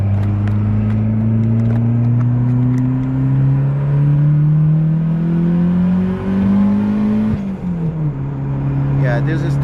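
A Mitsubishi Eclipse 2G running a Speeduino setup pulls hard in third gear from inside the cabin, engine note rising steadily and loud, then dropping sharply as the throttle lifts near the end, with brief talk toward the close.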